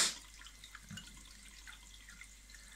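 An Ideal Standard toilet cistern refills after a flush seal valve and diaphragm repair, giving a faint, steady trickle of running water with soft drips, close by and with no voices.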